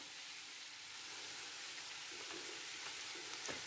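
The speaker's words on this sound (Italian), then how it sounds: "Adesso è arrivato il momento di aggiungere la polpa di pomodoro." Cold tomato pulp lands in a pan of chicken drumsticks cooking cacciatore style, bringing a steady, close hissing sizzle with a few soft stirring knocks toward the end, and no talk.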